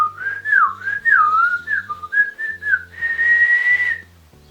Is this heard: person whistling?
yes